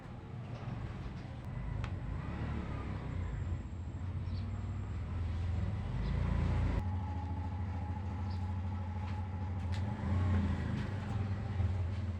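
A Suzuki Burgman Street 125 scooter engine starts and runs up close, a steady droning idle that rises and shifts in pitch partway through, with no talk.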